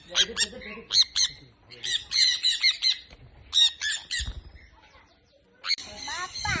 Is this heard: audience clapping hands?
no